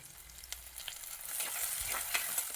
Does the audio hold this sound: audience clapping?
no